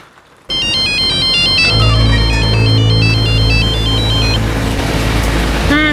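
Phone ringtone on an outgoing call plays loudly and steadily as a repeating electronic melody, starting abruptly and continuing for several seconds over low background music.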